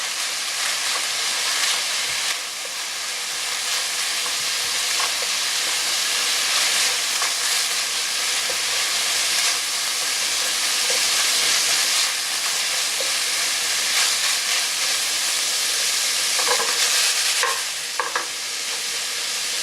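Ground pork sizzles steadily in a hot pan for mapo tofu, a loud continuous hiss with occasional scraping stirs, close up and without talk.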